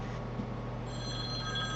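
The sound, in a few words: mobile phone ringing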